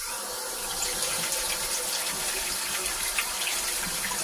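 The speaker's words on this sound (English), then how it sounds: "wash my tomato" Running tap water pours steadily into a sink while a tomato is washed beneath it, a continuous close hiss and splash with small shifts in the flow and no talking.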